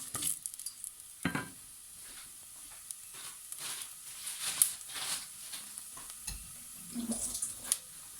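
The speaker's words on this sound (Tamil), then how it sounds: "கடுகு கொஞ்சம் பொரிந்தவுடன் பெருஞ்சீரகத்தை போட வேண்டும்." Mustard and then fennel seeds splutter in hot oil for a Jaffna-style brinjal curry, soft intermittent crackles and sizzling with occasional stirring and pan clatter at moderate volume.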